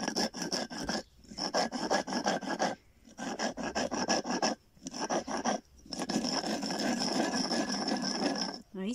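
Stone metate being scrubbed hard by hand to cure it on a ranch, a loud rasping back-and-forth scraping in steady rhythmic strokes with brief pauses between runs.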